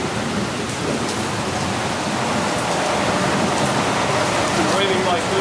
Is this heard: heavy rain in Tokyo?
yes